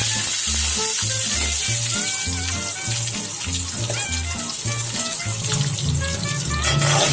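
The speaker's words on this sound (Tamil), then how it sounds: "சின்ன வெங்காயம் கொஞ்சம் வதங்கிடுச்சு." Whole small onions sizzling and frying in hot oil for a crab pepper masala, a steady loud crackle throughout with occasional stirring scrapes and no talking.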